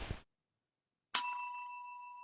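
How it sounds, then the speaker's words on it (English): A single bright bell ding rings out clearly and alone, then fades with a long, clean shimmer. "make sure you hit that bell"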